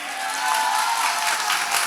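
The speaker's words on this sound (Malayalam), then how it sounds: "കൊട്ടിക്ക് കയ്യടി ഇവർക്ക്" Applause from an audience gathered in the courtyard at the Haripad temple festival, a dense steady patter of many hands that holds at an even level for a couple of seconds.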